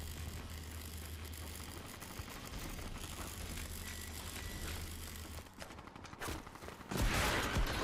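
Video game gunfire in a fight against bugs: dense, continuous rattling bursts of shots with mechanical clicks, ending in a louder, heavier blast.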